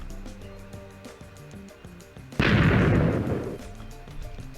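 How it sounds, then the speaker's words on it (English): TNT blowing up in the Minecraft video game, a single loud, sudden boom after a quiet stretch with background music, then a rumbling roar that slowly fades. "Let's just throw some TNT in here, explode it, and watch it."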